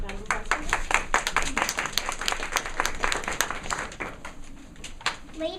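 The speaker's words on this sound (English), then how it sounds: "So, round of applause." An audience at a fourth-grade class play claps at a moderate distance, many separate sharp claps forming an uneven patter, with a steady high whine underneath.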